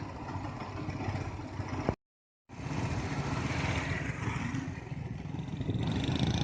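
A tractor works nearby while piling up material, its engine droning steadily at mid pitch with rising intensity, broken by a brief half-second gap of silence.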